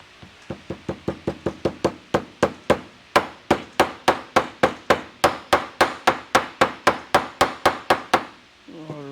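A rear wheel bearing seal is driven into place with a long, steady series of about thirty sharp, loud hammer taps at a regular rhythm, close by, with no talking.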